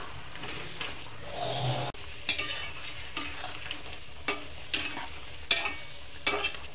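Pointed gourds cooking in a pan with coconut milk and chilli, giving soft bubbling and a low sizzle broken by repeated scraping stir strokes, close by and fairly quiet.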